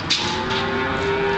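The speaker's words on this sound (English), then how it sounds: "I'm checking the cattle in." Cattle at an auction yard moo, one long drawn-out low call close by, heard clearly with no talk.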